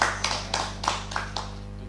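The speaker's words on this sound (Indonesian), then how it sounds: "Tepuk tangan dulu." Small bursts of clapping from an audience on an Indonesian talk show come in about six short, evenly spaced bursts over a steady low hum, without any talking.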